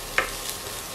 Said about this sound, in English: So you want to add your cauliflower into your pan. And you're just gonna cook it in your garlic oil.